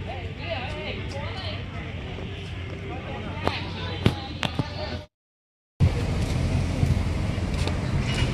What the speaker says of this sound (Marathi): सो गाडी आलेली आहे पुढची